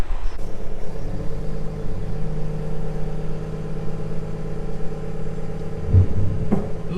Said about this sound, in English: Here comes the man on the quad bike.